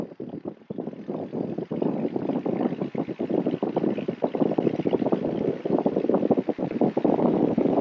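Light aircraft piston engine run up to 2000 RPM before a training flight, a loud, steady close-up drone with rough fluttering pulses, no voices.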